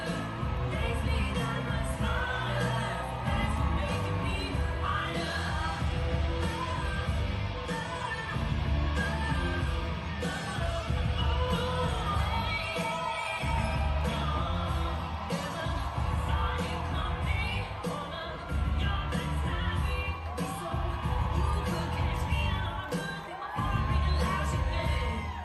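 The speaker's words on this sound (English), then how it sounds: "Lieutenant Governor Garland Gilchrist II taking the stage in Detroit with chants of 4 more years from the crowd after Gilchrist began speaking." Election rally crowd in Detroit cheering and chanting "four more years" as the lieutenant governor takes the stage, a dense, continuous roar of many voices with whoops and shouts throughout.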